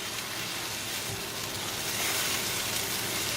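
Rice pilaf with peas, orange juice and cilantro is stirred together in a hot pan, giving a steady, even sizzle and hiss close by with no voices.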